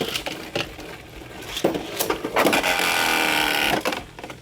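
Beyblade Burst spinning tops, Cyclone and Dynamite with a Dragoon, clash in a plastic stadium, giving scraping whirs and sharp clacking hits in bursts, with a sustained grinding spin in the middle.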